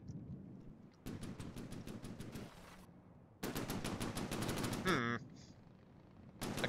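Rapid-fire guns in the naval combat game From the Depths rattle out in fast, evenly spaced bursts. Two long volleys are separated by lulls, followed by a brief metallic whine and a final short burst.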